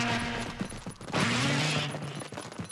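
Gunfire in a video game: a short rush of dense shots blurring into a loud rattling burst, with sustained tones and clicks around it.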